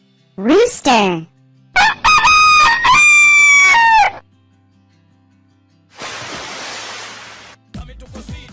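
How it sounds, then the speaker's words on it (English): A rooster crows loudly in a single drawn-out cock-a-doodle-doo with a short lead-in call, followed by a pause, a burst of broadband noise like surf, and a brief voice at the end. "Rooster."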